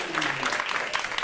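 An audience claps and cheers for the American Farmland Trust at an agriculture event, steady crowd applause with some voices mixed in.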